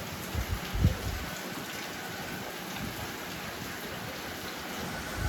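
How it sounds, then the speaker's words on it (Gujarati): Steady rain hiss fills the recording, soft and continuous, with a few low thumps near the start. "તો વરસાદ ચાલુ છે તો તમને દેખાતું છે."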